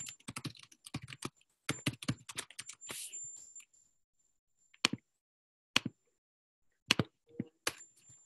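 Quick bursts of keyboard typing, clicky and close, first a rapid run of keystrokes, then scattered taps separated by silence.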